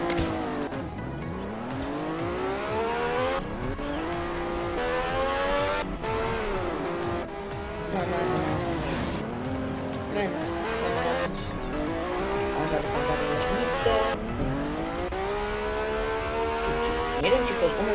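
A car drives in the Roblox-style game Mad City, its engine note rising and falling steadily as it revs and shifts, with brief tire squeals, continuous and fairly loud throughout.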